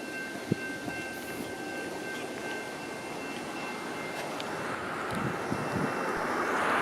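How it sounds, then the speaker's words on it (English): A passenger train passes through downtown Brampton, Ontario, its rumble swelling steadily louder as it approaches, with a thin tonal whine above the roar. "There's a train coming."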